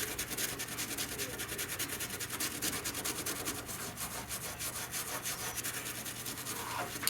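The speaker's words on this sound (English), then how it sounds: "you're just going to sit here and scrub and scrub and scrub and just go all different directions" A stiff brush scrubs layered fabric on a quilt block to fluff it into chenille, making rapid, continuous back-and-forth rubbing strokes close by with no speech.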